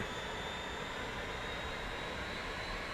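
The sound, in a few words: aircraft engine in a flight simulator video game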